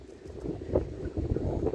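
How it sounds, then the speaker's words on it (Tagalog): Gusty wind buffets the microphone outdoors by the water during an evening fishing trip, a low rumbling roar that swells and fades in uneven surges. "Kaso mahangin guys dito sa labas"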